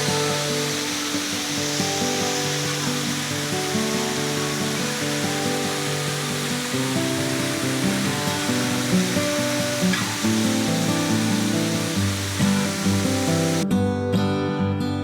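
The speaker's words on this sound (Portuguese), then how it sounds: "Primeiro a filmar a Cachoeira do Peral!" The Cachoeira do Perau waterfall near Itaiacoca, Ponta Grossa, roars as a steady broadband rush throughout. Tonal background sounds sit underneath, and the roar cuts off abruptly near the end.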